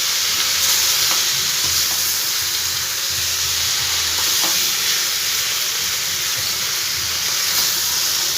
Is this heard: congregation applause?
no